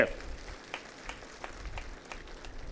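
Scattered clapping from a crowd of devotees and saints at a Hindu religious gathering, applauding Kapil Swami, comes in light, uneven bursts rather than a full roar.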